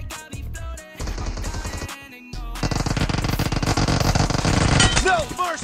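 Gunfire in the battle-royale shooter BGMI crackles in rapid automatic bursts, loud and close, with brief pauses between volleys and game voice lines mixed in.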